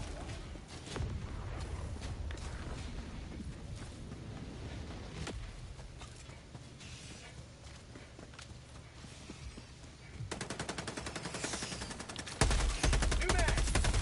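Machine gun fire in the game Helldivers 2 rattles on in long, dense bursts with other gunfire and footsteps, loud and close, as a voice talks now and then over the battle.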